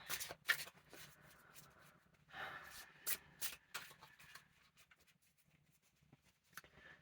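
Tarot cards are shuffled close up in soft riffling bursts and slaps, busy at first, then thinning to scattered quiet flicks.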